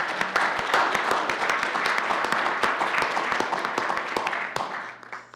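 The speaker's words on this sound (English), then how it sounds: "I guess we can clap even though she's not here." Attendees at a government work session clap together, a moderate round of distinct individual hand claps in an indoor room, fading out near the end with a low steady hum beneath.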